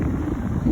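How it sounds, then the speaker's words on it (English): Morning wind gusts across floodplain parkland, a steady low rumble buffeting the microphone throughout the short moment, with no voices. "somewhat windy, expecting more rain"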